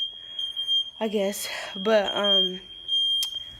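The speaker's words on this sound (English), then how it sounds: "I'm sorry for the beeping noise." A smoke detector in an apartment gives a steady, piercing electronic beep that runs through the whole clip and a sharper chirp near the end, under a person's nearby speech.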